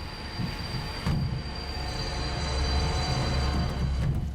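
Train coming to a stop in the video game The Raven Remastered, a low rumbling rolling sound with rattling wagons and a faint thin squeal, steady throughout with a knock near the start.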